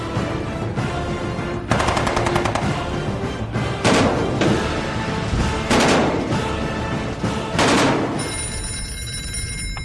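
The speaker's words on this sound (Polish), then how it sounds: "Wzmóc ogień artylerii i moździerzy." Dense, continuous artillery and mortar fire on a World War II battlefield with heavy repeated bursts and booming blasts, loud and close, filling the whole stretch without a break.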